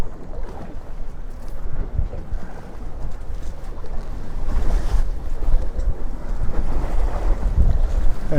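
A boat's outboard motor idles in reverse out on the ocean while fishing, a low steady rumble mixed with wind buffeting the microphone and waves slapping the hull, growing slightly louder toward the end.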